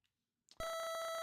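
Landmine warning beep from the NES video game War Games: after a brief soft blip, a loud steady electronic chiptune tone switches on and holds, with pulsing game music underneath.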